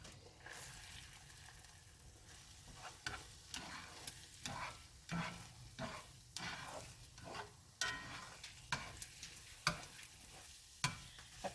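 Eggs frying in a pan give a soft, steady sizzle, broken by repeated light scraping strokes as they are turned and stirred, fairly quiet and with no talking.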